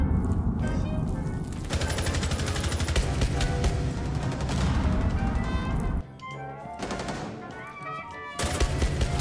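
Desert Eagle pistol shots ring out in a fast-paced online shooter game, with heavy, punchy gunfire and crashes layered over constant loud game action and a short lull before the shooting resumes.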